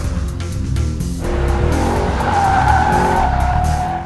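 A Mercedes-Benz C63 507 corners hard on a skid pad, its tires squealing steadily while the engine drones underneath, loud and continuous throughout.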